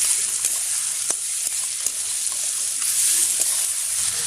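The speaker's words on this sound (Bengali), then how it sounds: "এবার আমি রসুন বাটাটা দিয়ে দিচ্ছি, আদা বাটাটা দিয়ে দিচ্ছি।" Garlic and ginger paste sizzles steadily in a hot pan with softened tomato for a meat khichuri, a continuous close hiss broken by faint stirring scrapes.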